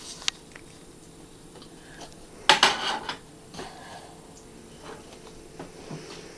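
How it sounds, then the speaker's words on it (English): An egg is cracked against a bowl while making chocolate pinwheels: a quiet kitchen with a single small tap, then a brief cluster of sharp clicks and a crackling knock, followed by faint scattered handling sounds. "We get to crack open an egg."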